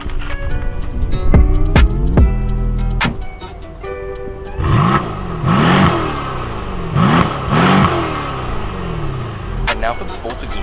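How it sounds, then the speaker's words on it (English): A silver Mercedes-AMG C63 S revs its engine in repeated sharp bursts, the exhaust rising and falling loud and close, with a few crackles and some talk in the background. "We've got a C63 S in iridium silver"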